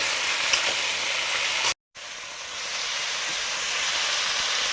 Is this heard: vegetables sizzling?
yes